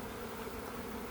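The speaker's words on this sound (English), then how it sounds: "They'll be fanning up there in the can, and they're also fanning down there in the box." A honeybee swarm being coaxed from a high limb into a can and a box hums in a steady, dense drone with fanning bees, close and continuous for about a second with no talk.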